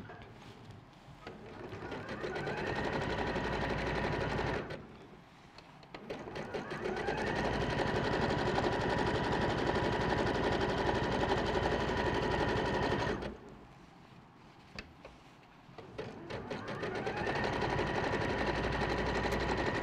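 A sewing machine runs a zigzag stitch through a single layer of fabric in three long steady bursts of rapid, loud mechanical whirring, separated by two brief pauses, with no talking.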